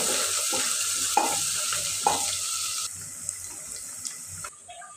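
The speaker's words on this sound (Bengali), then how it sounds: "পেঁয়াজ দিয়ে দিলাম, পেঁয়াজটা লাল করে ভেজে নেব" Chopped onions sizzle in a hot pan as they fry until browned, a steady close hiss broken by a few sharp scrapes and clinks of stirring, with no voices.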